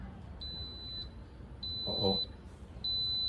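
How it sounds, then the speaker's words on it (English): An Instant Pot 9-in-1 electric pressure cooker gives three short, high electronic beeps at even intervals, with a brief voice between them over quiet kitchen background noise. "It's beeping. It's saying it's adding pressure."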